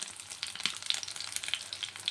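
Eggs frying in a pan give a steady close crackle and sizzle, with sharp little pops scattered throughout and nobody talking.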